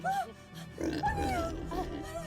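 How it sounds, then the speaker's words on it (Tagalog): A wild boar gives a few deep, rough grunts close by, loud and short, mixed with nearby voices in a dramatic scene. "Baboy Ramo! Alis! Labas!"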